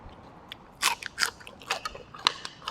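Crispy fried winged beans, eaten with spicy stir-fried basil pork and shrimp, give sharp crunchy bites. Several irregular crackling crunches sound close to the mic, with no talk.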